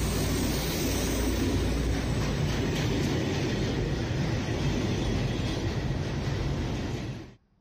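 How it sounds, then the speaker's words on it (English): A freight train passing on rails, a loud continuous rumbling roar with rattling wagons and wheel noise, steady throughout before cutting off abruptly at the end. "which meant a freight train overtook us in the meantime"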